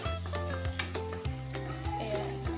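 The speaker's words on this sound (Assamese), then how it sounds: "এতিয়া মই ইয়াত জলকীয়া দি দিলোঁ, কেঁচা জলকীয়া" Raw green chillies fry and get stirred in a hot pan for an Assamese dish, a steady close sizzle broken by a few scraping stirs of the spatula and no voices.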